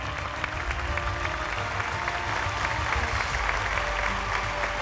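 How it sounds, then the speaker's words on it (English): Dense, steady applause fills a large venue at a beauty pageant grand finale, loud and continuous throughout. "Let's give them a huge round of applause, ladies and gentlemen."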